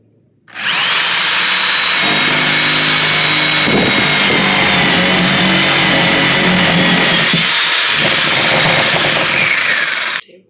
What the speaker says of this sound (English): now we're going to drill all the holes into our 2x4 pieces of plywood